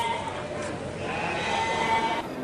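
Goats bleating at an animal market in Sukabumi city, with wavering calls rising over a busy, noisy background while a voice talks over them.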